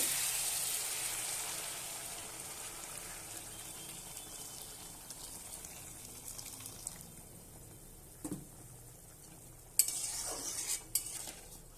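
Hot water goes into a pan of sizzling spice paste for a fish curry with okra and potato. A faint sizzle fades gradually, then a few sharp stirring and splashing clatters come near the end.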